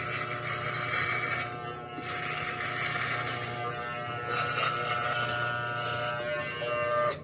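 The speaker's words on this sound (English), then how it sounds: "first off, we need to get rid of this beard" An electric shaver buzzes close up while shaving off a beard, a continuous whirring drone that rises and falls as it moves over the face, no talking.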